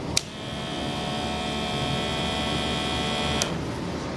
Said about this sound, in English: The sound you just heard was the motor pumping the air in.